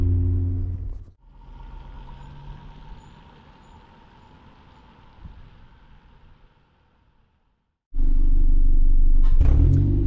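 Engine of a 2005 Ford Focus fitted with a universal cold air intake, heard from inside while driving through curves: a loud engine burst at the start, a long low steady drone that fades almost to silence, then a sudden loud throttle tip-in at the end.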